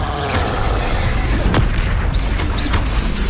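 In Hogwarts Legacy, an Incendio fire spell goes off as a loud booming blast in the middle of ongoing game combat, with more thuds and crackles around it and no speech.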